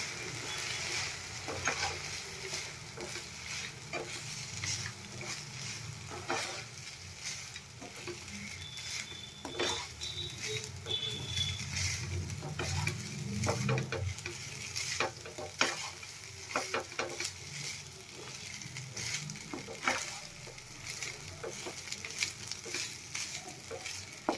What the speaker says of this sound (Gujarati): बधुं बराबर मिक्स करी देशुं।